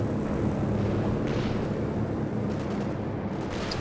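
Stuka artillery barrage in a World War II strategy game, a continuous dense rumble of overlapping blasts and distant explosions rolling on steadily without pause.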